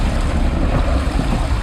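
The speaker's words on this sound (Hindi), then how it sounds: "ये आवाज नदी में से आ रही थी।" Water churning and swirling in a river at night, forming whirlpools in otherwise still water near an island in Nalgonda, Telangana; a steady, loud, broadband rushing wash with no voices.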